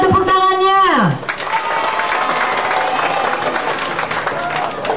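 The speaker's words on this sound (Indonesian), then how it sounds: "Mana tepuk tangannya?" A large crowd at an Indonesian armed forces anniversary event claps steadily, a dense rattling patter that follows a short falling electronic tone at the start and carries on at full loudness to the end.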